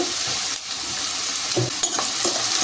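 Thinly sliced onions frying in oil with a spoonful of rock salt for a village-style mushroom curry, a steady bright sizzle with occasional stirring scrapes and clinks, close and without speech.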